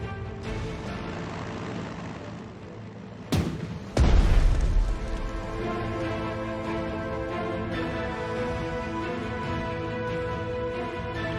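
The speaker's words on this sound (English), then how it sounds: "Things are going to explode." In the Pacific war strategy game Strategic Mind: The Pacific, a pair of heavy explosions booms over a continuous droning battle soundscape, the second blast louder with a rumbling tail.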